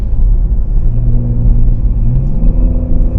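Engine of a 2019 Chevy Blazer Premier climbing Pikes Peak: a loud, steady in-cabin rumble with a low drone that rises gently in pitch as it accelerates, with no talk.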